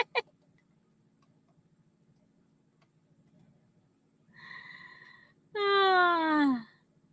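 Canada goose giving two honking calls close by, the first a rough mid-pitched honk and the second louder, longer and sliding downward, over a quiet low hum.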